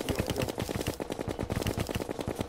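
Rapid automatic gunfire in Terraria, a fast steady stream of sharp shots hammering an enemy, continuous and fairly close, without talk.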